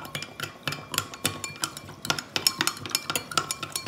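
Eggs stirred with a utensil in a dish, quick repeated clinks and scrapes in a steady close rhythm with no talking.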